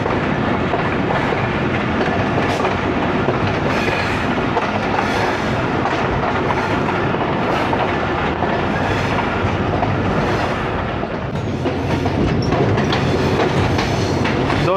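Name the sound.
train running on tracks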